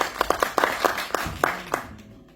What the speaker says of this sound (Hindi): उनके लिए जोरदार तालियां होंगी